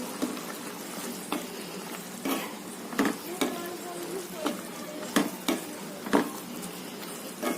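Bread pieces frying and being stirred in chana masala, a soft sizzle under repeated scraping and clinking strokes of a spoon against the pan at an uneven rhythm.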